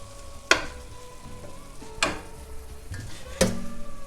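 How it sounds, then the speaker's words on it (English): Cabbage and prosciutto mixture sizzling as it reheats in a pan for linguine, a soft steady crackle broken by three sharp utensil clacks against the pan. "so we got our cabbage mixture heating back up"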